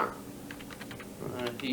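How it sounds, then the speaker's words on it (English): Rapid clicking and clacking of typing on a keyboard, a run of light irregular keystrokes heard faintly over a phone line at the far end, with some background murmur. "You hear some clicking clacking on the other end."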